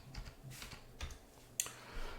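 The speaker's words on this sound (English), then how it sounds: "I'm going to type out exit." Keys on a computer keyboard tapped in a short, uneven run of clicks during a Linux terminal session, close and fairly quiet, with one sharper keystroke near the end.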